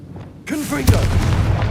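A Confringo blasting spell in Hogwarts Legacy on PS5 detonates as a deep boom that rolls on with rumbling low-end debris, with a voice and tonal in-game sounds briefly heard just before the blast.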